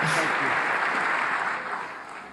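Sustained applause from a large crowd at the 2018 State of the Union address, steady dense clapping that fades slightly toward the end, with no voices standing out.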